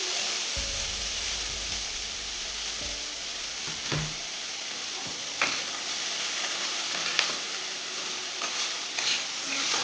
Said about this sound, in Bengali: তেলটা গরম হয়ে গেছে পেঁয়াজ কুচিগুলো দিয়ে দিচ্ছি